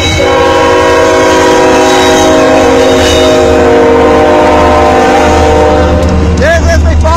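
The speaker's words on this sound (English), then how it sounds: "filming the last ever circus train to pass through Swainsburg" The Ringling Brothers circus train rolls past near Pax, West Virginia, its horn sounding loud and sustained throughout, very close, with rumbling wheels beneath and a voice briefly audible.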